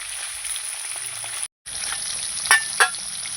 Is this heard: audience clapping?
no